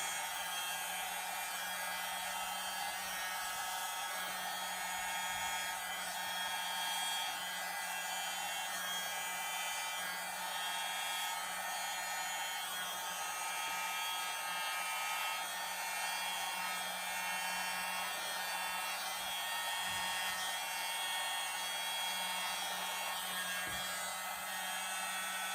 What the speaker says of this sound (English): I love this little blower